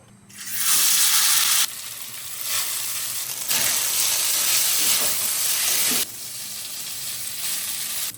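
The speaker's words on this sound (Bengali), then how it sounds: "কড়ার মধ্যেই করে নিই তো অল্প অল্প করে ভেজে নেব" Chow mein noodles frying in a kadai at home, a loud, steady broadband sizzle that swells when the noodles are tossed, with soft stirring scrapes and no talking.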